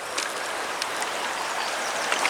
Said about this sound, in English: Man, that's a good rush of water.